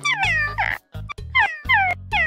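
A voice imitates a cat, letting out several drawn-out, whiny meows in quick succession, loud and close.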